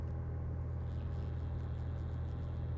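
A Cessna 172 piston engine fitted with an ElectroAir electronic ignition runs at full throttle for takeoff, a steady, droning low rumble heard from inside the cabin, constant in level with no voices.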